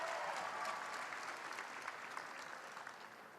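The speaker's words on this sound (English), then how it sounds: "I would like you to give a big round of applause to the both players" A crowd claps for the tennis players at the Almaty Open 2025, a steady wash of applause that fades gradually over a few seconds.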